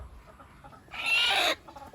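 A Fayoumi chicken outdoors gives one brief, loud clucking call in a short burst, alone against a quiet background.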